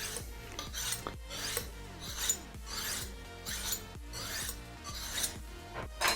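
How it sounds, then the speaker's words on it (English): Kitchen knife drawn repeatedly across a sharpener at a 45-degree angle, giving steady rhythmic metallic rasping strokes, about one per second, close and fairly loud with no talk. "So it's a 45-degree angle. Just give it a good sharpen."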